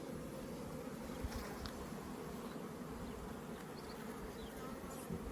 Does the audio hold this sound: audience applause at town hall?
no